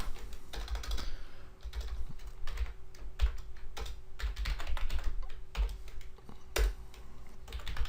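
Fast clattering keystrokes on a computer keyboard as commands are typed on Ubuntu, close and clear, in irregular bursts with short pauses and a few harder key hits.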